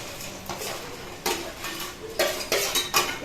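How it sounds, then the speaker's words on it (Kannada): Fried paneer being added to a masala in a pan, heard as clanks and scrapes of a utensil against the pan in short bursts, with a faint sizzle underneath and no talking. "ಈಗ ಇದು ಫ್ರೈ ಮಾಡಿರೋ ಪನ್ನೀರ್ನ ಹಾಕ್ತಾ ಇದ್ದೀನಿ."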